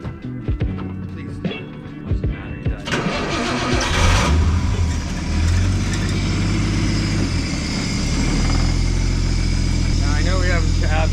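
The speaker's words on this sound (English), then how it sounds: "Now let's like fire it up." A Nissan RB engine is cranked with mechanical clicks and a short whir, catches around the midpoint and settles into a loud, steady idle that carries on to the end, with a voice talking over the start.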